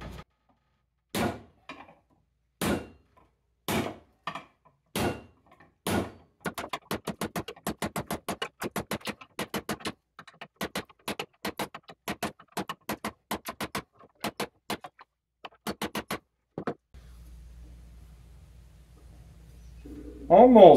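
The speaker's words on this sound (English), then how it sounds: "So I'll just lay this on here flat and start pounding away." Hammer blows pounding a bent metal part flat on a farm, a long series of sharp, loud metallic strikes, slow and spaced at first, then fast and steady, ending with a low hum and a brief squeal.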